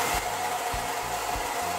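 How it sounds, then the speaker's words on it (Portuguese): A hair dryer with a failing heating element blows steadily, a constant whooshing hum close to the microphone with a few low thumps. "Vamos passar secador agora pra ver."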